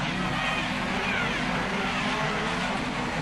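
Hot rod race cars roaring away together as the green flag drops at Wimbledon in 1978, a dense, steady wash of engine noise heard from a distance with no voices over it.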